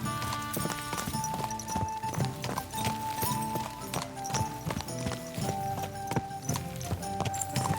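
Horse hooves clip-clop steadily in the video game Kingdom Come: Deliverance II, a close, even rhythmic trot over a dense background of game music and ambience.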